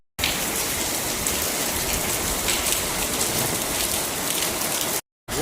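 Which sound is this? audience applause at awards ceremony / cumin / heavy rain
heavy rain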